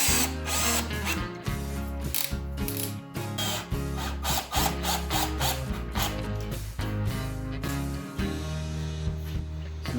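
Screws being power-driven into a wooden coffee table frame, with a loud ratcheting, whirring drill that pulses in repeated bursts as each screw bites into the wood, close and alone.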